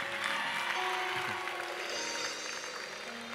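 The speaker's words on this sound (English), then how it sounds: "Clap your hands." A church congregation at a Good Friday service clapping hands, a steady wash of claps in a reverberant hall with faint voices mixed in.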